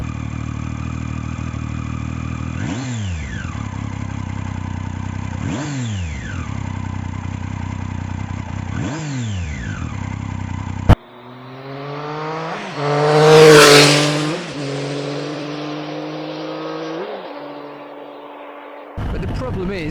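A Triumph Street Triple motorcycle engine drones steadily, with repeated dips and swells in pitch. It then shifts to a different engine note that climbs to a loud, rising rev and falls away, all heard up close.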